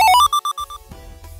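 A phone ringtone plays a quick run of rising electronic beeps followed by a repeated tone pattern, close and clear, then fades into quiet room noise.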